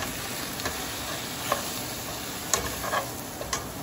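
Sweet potato leaves and longganisa fry in a pan with a dense, even sizzle throughout, broken by a few faint ticks and taps of a utensil, close and continuous with no talking.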